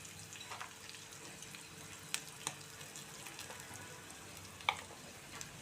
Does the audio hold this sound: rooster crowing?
no